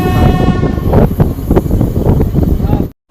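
Kolkata Haldibari intercity express train running along the track, loud rumbling and rhythmic clatter of the wagons with repeated sharp bursts, ending suddenly in silence.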